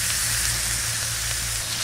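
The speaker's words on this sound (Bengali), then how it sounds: "পেঁয়াজটা একটু কষাই নিলাম, এবার দিয়ে দেবো বাটা মশলা" Onion and a ground spice paste frying in hot oil for a Bengali shol fish malai curry, a loud, close, continuous sizzle with no talking.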